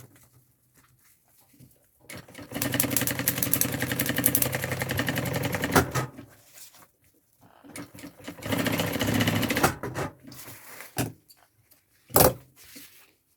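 A sewing machine topstitches black thread onto the white lining of an insulated double-compartment backpack, running in two loud steady whirring bursts separated by quiet pauses, with occasional clicks and thumps between them.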